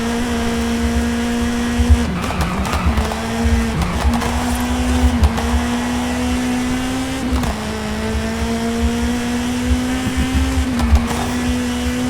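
A 2007 Honda Civic Type R engine pulls steadily while driving, a loud, even drone that holds a firm pitch and dips and climbs slightly with throttle changes, with no talking over it.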